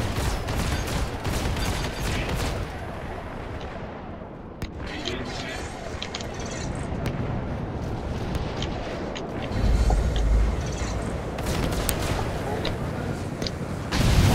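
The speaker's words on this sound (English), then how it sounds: "Missiles away." Missiles launching and rapid gunfire in a Star Citizen co-op space dogfight against a Vanduul swarm, a dense continuous barrage of blasts and explosions with a heavy low boom near the end.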